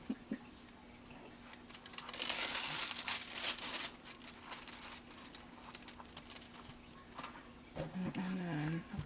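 Paper crinkling and rustling while unboxing a raccoon-themed Diamond Painting kit, a dense burst of crackle in the middle and scattered crinkles throughout, fairly close and moderate in level, with a brief voice near the end.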